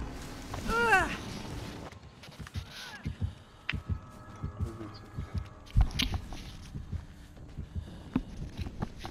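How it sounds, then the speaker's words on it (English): Dull, rhythmic low thumps of the killer's heartbeat in Dead by Daylight, with the Executioner as killer, pulse under scattered game noises and a few chirping sounds near the start. "I hear his heartbeat nearer"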